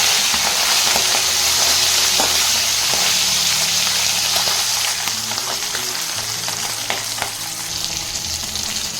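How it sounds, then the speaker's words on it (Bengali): Fish frying in oil in a home kitchen for a fish and potato curry, loud continuous sizzling with stirring and a few sharp crackles as the fish is turned to the other side. "এবার মাছটাকে উল্টানিয়ে উল্টো দিকটা ভেজে নেব।"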